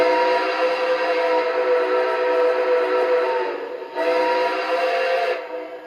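Lionel Legacy model train engine sounding a long, loud steam-style whistle, a steady multi-tone chord that dips briefly before a second blast resumes and fades, with no talking over it.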